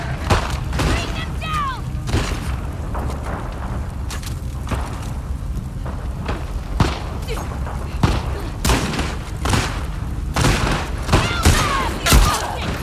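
Repeated gunshots and booming impacts from combat in The Last of Us Part II, sharp bursts scattered irregularly across a dense, noisy game soundscape, with talk mixed in.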